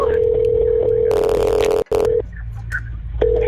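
An unanswered 911 emergency call rings on a phone, a steady electronic ring tone repeating in bursts, cutting out briefly, then resuming.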